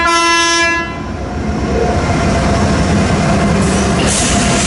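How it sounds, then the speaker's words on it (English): An eastbound freight on Main 1 of the Fort Wayne line at CP Rochester passes close by, its horn blaring for about a second before the loud rumble and clatter of railcars takes over and continues steadily. "Train on Main 1 on the Fort Wayne line here at CP Rochester"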